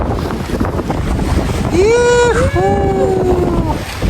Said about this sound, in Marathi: बोट 2 दऱ्यांच्या मधनं जाते.